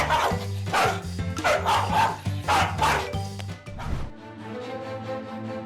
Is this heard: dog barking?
yes